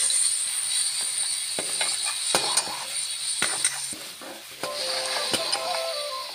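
Garlic frying in a pan, a steady close hiss and sizzle with scattered clicks and scrapes from stirring and a brief bubbling patch near the end, no talking.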